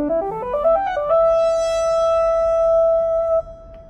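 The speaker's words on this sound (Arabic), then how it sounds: "هذا صوت الماتريكس" Matrix synthesizer voice on a Yamaha PSR-SX600 arranger keyboard: a quick rising run of notes settles into one long bright sustained tone that holds for about two seconds, then cuts off, alone with no talk.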